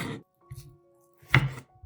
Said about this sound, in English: cut the tomatoes into small pieces